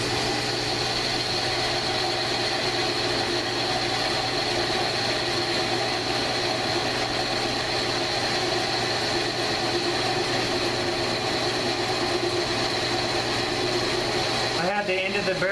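Lathe threading an AR15 bull barrel at 475 RPM, the barrel held in a 3-jaw chuck, producing a steady loud machine hum and whine that continues throughout, with a brief change near the end.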